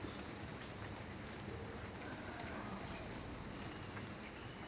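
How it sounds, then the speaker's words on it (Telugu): Steady rain falls on an early monsoon morning, a continuous even hiss of drops on surfaces that stays close and constant throughout, with no voices. "ఈ వర్షం పడుతుంది"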